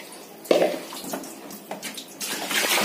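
Water splashes and streams off a wet Persian cat during a bath, with irregular pouring bursts and drips close up, growing louder toward the end.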